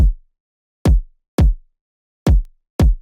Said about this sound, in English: So without effects, the kick sounds like this.